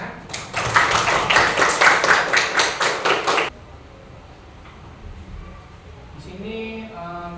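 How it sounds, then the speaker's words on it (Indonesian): Applause from a classroom of teachers during a teaching-practice lesson, a few seconds of dense, fairly loud clapping that stops abruptly, followed by a quiet room with faint voices. "Tepuk tangan."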